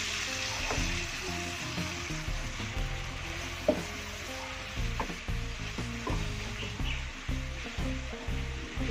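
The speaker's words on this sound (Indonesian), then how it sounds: "Ini kita tumis sampai mengering" Salted fish is stir-fried in a pan with a little added water, producing a loud, continuous sizzle with rhythmic clanks and scrapes of a spatula close up.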